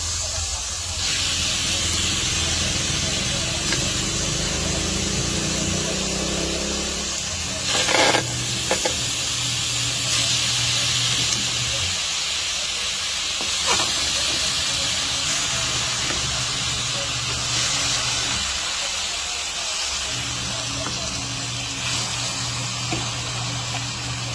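Chicken pieces for adobo hit a hot, smoking pan and fry with a loud, continuous sizzle and hiss. Occasional clinks and scrapes of stirring break through the sizzle.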